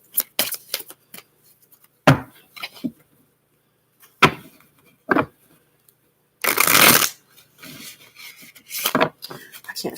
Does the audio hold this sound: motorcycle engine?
no